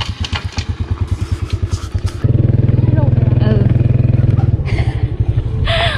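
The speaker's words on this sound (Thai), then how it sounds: "ขี่รถจักรไปเลยเนาะ" Motorcycle engine running steadily up close, with a pulsing idle-like throb that swells into a sustained louder drone midway, then eases back, with rattling clatter on top.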